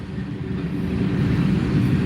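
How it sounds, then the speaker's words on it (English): A low, steady rumble builds slightly as a train rolls past close by in Lind, Washington, with no voices. "We're like pretty up close and personal with the train."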